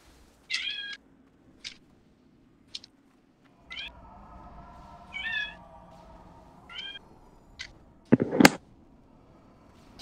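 A cat meows several times from a nearby room, with short, separate, high calls spread out over the stretch. Low game or room noise runs beneath, and a louder burst comes near the end.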